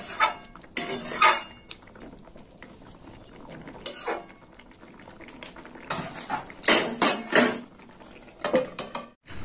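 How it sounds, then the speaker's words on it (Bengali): Spoon scraping and clinking against a pot while milk and bottle gourd with added sugar are stirred together, giving irregular bursts of metallic scrapes separated by quieter simmering moments, close up with no voices. "আর একটু নেড়ে চেড়ে নেব।"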